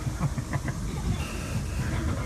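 A passenger train running on rails on a service to Bristol, heard from inside the carriage with its window open, a steady close rumble with faint rhythmic clatter and no voices.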